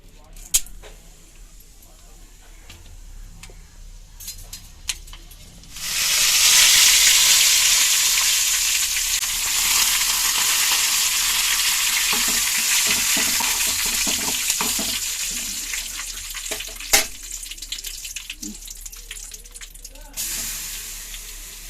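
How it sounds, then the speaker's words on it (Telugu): Curry leaves sizzle in hot oil for a tempering while cooking carrot curry, a loud sustained frying hiss that starts abruptly and then gradually settles, with occasional clinks and faint speech around it. "కరివేపాకు తాలింపులు వేస్తున్నామండి"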